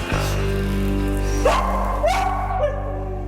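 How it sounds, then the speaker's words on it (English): Three sharp dog barks ring out at spaced intervals over a steady low engine-like hum, fairly close and loud. "that's Lolly barking"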